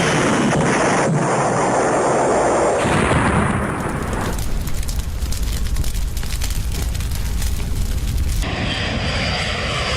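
Passenger jet crash of Air India flight 171 near Ahmedabad: a sustained loud roar and rumbling blast noise with no speech, shifting in character partway through.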